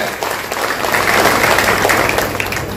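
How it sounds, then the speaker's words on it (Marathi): Strong, steady applause from an audience at a women's ward federation office inauguration in Lote, sustained throughout without a break. "मला वाटतं स्वतःसाठी एक टाळी जोरदार आपली झाली पाहिजे, जोरदार टाळी पाहिजे"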